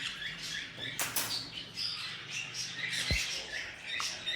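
A sun conure breeder pair at a bird exhibition gives sharp, fairly faint squawks in short bursts over steady background chatter and room noise.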